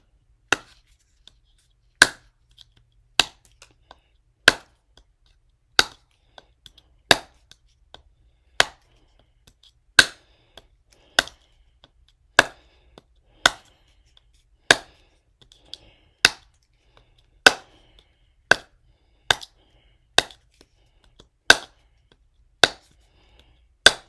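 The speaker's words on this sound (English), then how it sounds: "let's see about chopping" Sharp, regular chops of an SRM 9203 folding knife striking wood, about one every second, each a crisp isolated crack against near silence.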